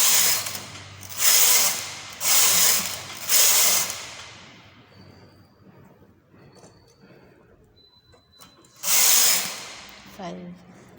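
A knitting machine works rows of a baby beanie: the carriage makes four quick, loud whooshing, rattling passes in a steady rhythm, then goes quiet before one more pass. A faint mechanical ticking is heard between passes.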